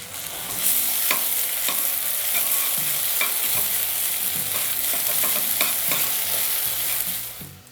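Tomato paste sizzles and fries in a hot pan for a moussaka while a utensil stirs and scrapes through it in repeated strokes, close and steady with no talking.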